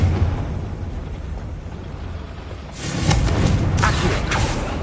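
A Confringo spell explosion in a video game, a sudden broad burst that blooms up midway and rumbles on, with two or three sharper cracks following over a steady low background.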